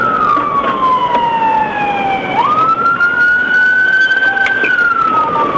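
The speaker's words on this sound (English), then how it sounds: "the moment the deputy activated his lights and siren" A loud police car siren wails, sweeping down in pitch then holding a steady tone, close and continuous over road noise during a high-speed chase.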